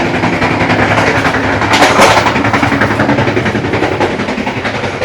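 Loud, steady rumble and rattle from the passage between carriages on the Tegal Bahari executive train, with rhythmic clickety-clack of wheels on rail joints continuing throughout.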